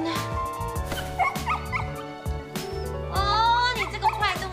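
A dog in a Hong Kong apartment yips, barks and whimpers loudly and repeatedly, with people talking over and between the cries.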